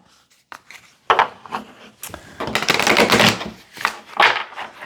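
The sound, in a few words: shuffling tarot cards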